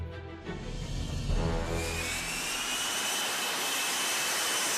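An F-35B's jet engine roars with loud, sustained thrust, a broadband rushing blast with a rising high-pitched whine building over several seconds as power increases, heard alone without voices.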